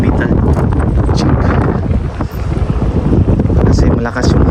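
Strong wind gusts roaring steadily across an open-air microphone while fishing with a light metal jig from the shore, a dense broadband rush that stays loud throughout, with someone talking beneath it.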